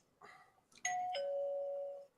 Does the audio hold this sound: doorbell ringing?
yes